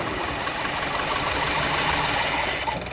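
A Hillman Minx that sat parked for 30 years, with its fuel supply rigged up front, runs at a steady idle. Its engine note is rough and continuous and holds close and fairly loud throughout.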